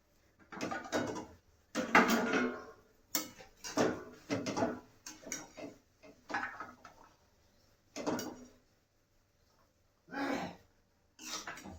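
Pots, lids and utensils clatter and scrape in repeated bursts with short gaps while lakhori vegetable curry, made village-style with pigeon peas, is served in a home kitchen.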